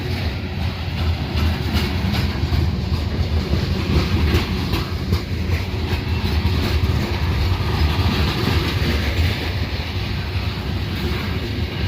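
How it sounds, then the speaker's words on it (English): A train rolls past over coins laid on the tracks, a loud, steady rumble with clickety-clack of wheels on rails and wind buffeting throughout, close and continuous with no talk. "Okay, the train just passed."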